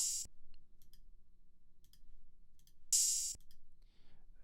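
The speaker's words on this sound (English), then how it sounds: "then we have this open hat." An open hi-hat from a trap beat plays twice, each a bright, hissy burst lasting about a quarter second, separated by near silence with faint ticking, loud and isolated with nothing else playing.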